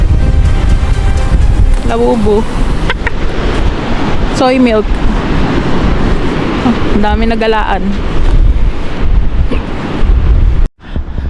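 Strong wind buffets the microphone on the Big Sur coast, a loud, continuous roar while people talk in short bursts, ending with a brief cutout.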